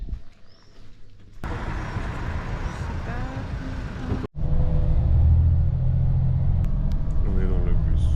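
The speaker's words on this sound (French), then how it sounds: "On est dans le bus." Inside a bus in Marrakech, a low engine rumble and road noise begin abruptly, then grow heavier and louder after a short break as the vehicle drives on.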